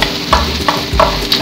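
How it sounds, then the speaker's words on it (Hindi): Garlic-ginger paste frying with light golden onions for chana pulao, a loud close sizzle broken by three or four rhythmic scraping stirs of a spoon in the pan. "लहसुन अदरक का पेस्ट डालेंगे अब इसके अंदर"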